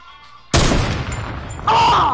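A sniper rifle in a video game lets off a single sharp, loud blast that rings out and trails away, followed moments later by a second burst of noise.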